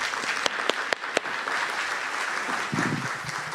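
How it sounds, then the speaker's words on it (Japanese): Steady applause from a symposium audience welcoming a keynote speaker fills the whole stretch, with a few sharper claps standing out early. "皆様、拍手でお迎えください。"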